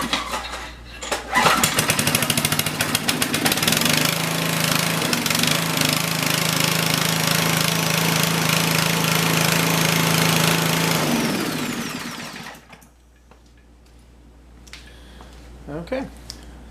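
A small portable generator runs steadily after a capacitor fault was repaired, a loud continuous engine drone with mechanical rattle lasting about eleven seconds before cutting out to a quiet room with faint shuffling.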